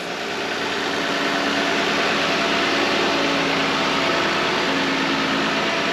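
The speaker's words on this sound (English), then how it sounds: "This engine is not making a single rattle or a single knock, and butter smooth fired right off." A 2007 Lexus ES350 engine idles steadily and smoothly, a continuous even rumble with no knocks or rattles, close and fairly loud throughout.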